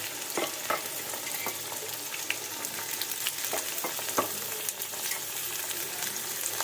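Sugar being stirred into hot rice in a pan while making fried rice, giving a steady close sizzle with scattered scraping and clinking strokes of a spoon throughout, and no voices.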